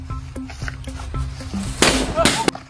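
Firecrackers set off by hand during the Tihar festival burst in two sharp, loud cracks near the end, after a stretch of talking.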